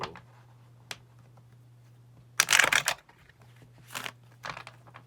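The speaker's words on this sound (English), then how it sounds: "We're going to do one more shuffle." Tarot cards being shuffled during a reading, a soft tick, then a dense riffling burst followed by a couple of shorter flutters, close and alone over a low steady hum.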